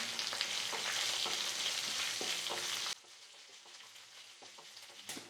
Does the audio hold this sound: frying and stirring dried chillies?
yes